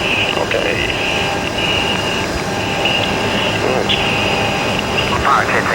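Inside the cockpit of a Blackburn Buccaneer jet during its takeoff run, a heavy, steady engine roar with a high tonal whine fills the whole stretch, while crew voices speak over the intercom.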